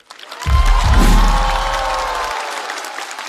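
An audience applauds and cheers to welcome a stage performer at a competition show, a short burst that swells quickly, peaks, and then tapers off over a low musical backing.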